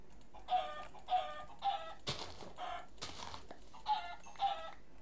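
Chickens cluck in Minecraft, giving six short, fairly loud bursts spaced about half a second apart. A crackling, fire-like noise breaks in between them.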